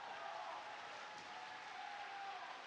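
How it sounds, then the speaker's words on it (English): A crowd applauds at an esports fighting-game tournament, EVO 2022, a continuous distant wash of clapping that holds steady throughout, with no voices standing out. "Let's hear it for the first place champs, VoiD and Nakat."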